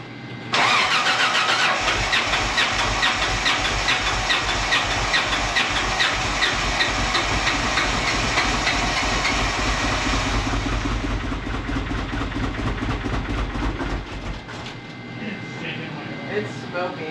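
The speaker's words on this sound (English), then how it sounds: "It's firing on 3 cylinders." A 1992 Mitsubishi 3000GT VR4 engine cranks and catches, then runs loud and uneven, firing on three cylinders and smoking, with a rough, lumpy idle for a long stretch, voices faintly underneath.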